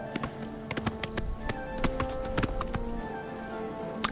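A paint horse's hooves gallop in Oblivion Remastered, a steady clip-clop of close, fairly loud hoofbeats running under layered game ambience and effects.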